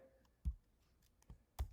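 Three sharp, quiet mouse clicks spaced apart with near silence between, made while setting up a new bucket in a social media scheduling app.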